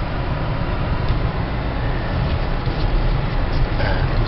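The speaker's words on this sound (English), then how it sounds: "I'm driving the car." A 2006 Honda Civic Hybrid drives forward along a dry road, giving a steady, broadband rumble of engine and tire noise from inside the cabin, continuous and moderately loud with no talk.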